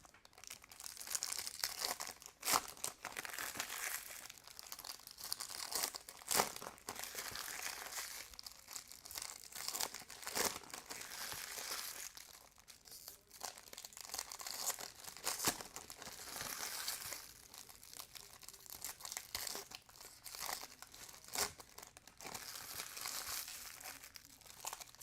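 Bowman baseball card packs being torn open and handled, with irregular crinkling, ripping and rustling of foil wrappers across a long, fairly quiet stretch.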